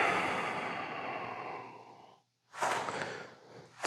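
A long, slow exhale during a yoga session trails off into a short silence, then a second breath rushes out, close and clear with no talking.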